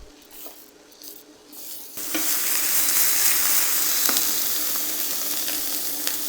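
Sausages sear in a salted pan. Faint stirring gives way after a couple of seconds to a loud, steady, close frying sizzle with occasional small pops.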